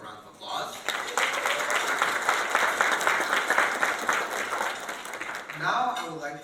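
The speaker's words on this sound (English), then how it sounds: "we could please give them a round of applause." An audience at a leadership breakfast in a hotel ballroom breaks into sustained applause that swells quickly, holds steady for several seconds, then tapers off as a voice returns.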